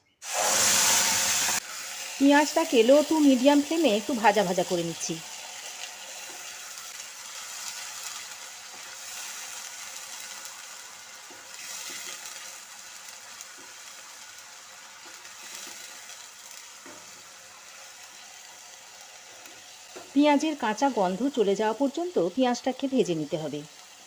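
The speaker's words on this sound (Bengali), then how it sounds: "গ্যাসের ফ্লেমটাকে একটু লোতে করে ওই তেলের মধ্যে দিয়ে দিচ্ছি দুটো মিডিয়াম সাইজের বেটে নেওয়া পেঁয়াজ" Ground onion paste hits hot oil in a pan over a low gas flame, setting off a bright, steady sizzle under a voice, with bursts of stirring clatter near the start and again near the end.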